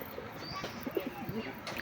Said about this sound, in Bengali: সব পায়রাই ধান খাচ্ছে